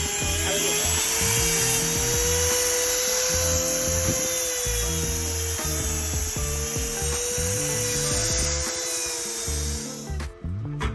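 Power grinder trimming a dog's nails, one of two Belgian Malinois or a Doberman Pinscher, a steady high whining buzz close by that runs continuously for about ten seconds before cutting off briefly near the end.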